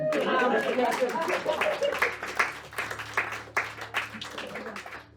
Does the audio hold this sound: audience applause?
yes